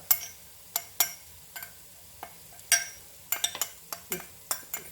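A spoon stirs spice powders in a cooking pot for prawn biryani, giving sharp intermittent scrapes and clinks against the metal over a soft background sizzle.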